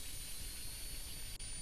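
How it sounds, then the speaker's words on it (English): In a helicopter flight simulator game, electrical power being supplied to the helicopter's components gives a steady electronic whine and hum, constant and fairly quiet, with a brief dropout near the end. "This noise you are hearing is the power being supplied to all components"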